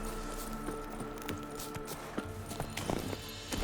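Roach, Geralt's horse in The Witcher 3, gallops with quick, steady hoof clip-clops in a running rhythm over game ambience, growing slightly louder toward the end.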